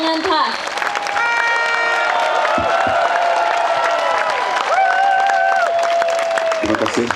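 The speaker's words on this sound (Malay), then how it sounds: "Satu tepukan kepada rakan seperjuangan kami dari Cawangan Pas." A crowd at a nighttime political rally claps and cheers in a sustained, loud burst of applause for a PAS speaker, while a voice speaks over an amplified sound system.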